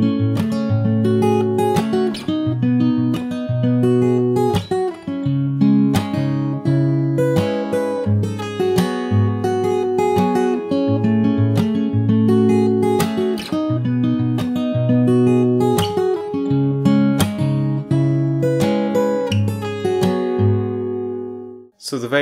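Fingerstyle acoustic guitar plays an arrangement of a song: plucked bass notes under a bright picked melody, steady and close, ringing out cleanly before a final fade with no talking.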